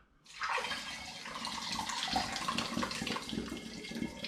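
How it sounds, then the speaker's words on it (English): Liquid pours off a tray during an all-grain strong ale brew, a steady splashing trickle that starts abruptly and runs continuously, fairly close but moderately quiet. "I'm going to try tipping a little bit because there is quite a lot of liquid on top."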